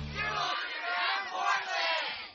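An excitable studio crowd whoops and cheers loudly in continuous waves of overlapping voices, swelling and dipping over a couple of seconds.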